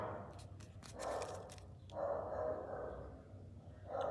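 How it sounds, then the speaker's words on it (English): A dog barks in bursts somewhere nearby, three rounds of barking spread across the stretch with quieter gaps between them, heard at moderate volume without any speech over it. "Some dog is barking."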